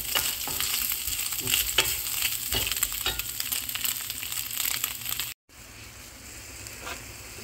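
Mushrooms fry in a pan with a steady sizzle while a utensil stirs and scrapes in short repeated strokes, close and fairly quiet, with a brief cut near the end before the sizzling resumes more softly.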